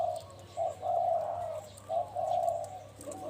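A decoy spotted dove, a single-coo bird with a mid-pitched voice, calls a series of soft, steady coos close by, in two clear bursts with a short pause between them.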